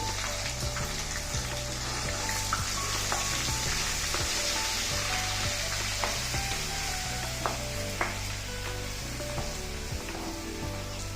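Ginger garlic paste fries in oil over a medium flame, giving a steady, close sizzle with occasional light stirring clicks throughout.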